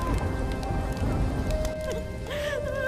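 Heavy rain falling in a village, a continuous dense patter of drops on surfaces, fairly close and steady throughout, with a few faint tonal sounds rising faintly over it near the end.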